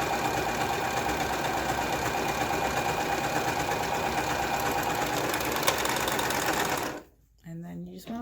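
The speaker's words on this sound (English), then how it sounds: "I am going to put the fabric down and start sewing." A Brother four-spool serger stitches through scrap fabric, its fast steady mechanical whir running continuously and loud up close before cutting off abruptly near the end, followed by a short quieter rustle.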